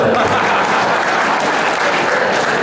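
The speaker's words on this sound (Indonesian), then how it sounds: "Tepuk tangan saya." Audience at a formal farewell-and-welcome ceremony breaking into applause, a dense, steady wash of clapping that fills the whole stretch at even loudness.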